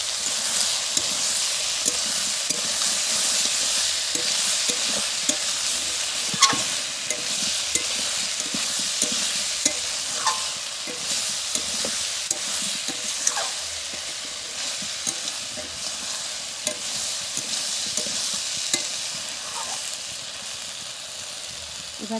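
A spatula scrapes and stirs a fish curry with ridge gourd, drumstick and ginger-cumin paste in a hot pan, with repeated rhythmic scraping strokes over a constant close sizzle.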